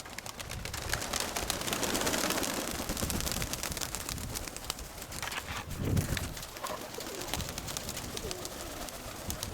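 Pigeons coo intermittently against a steady, noisy background, with one louder low burst of cooing near the middle.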